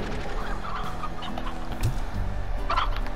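Chickens in the video game Slime Rancher clucking repeatedly in short bursts, layered over a steady game background hum, with no talking.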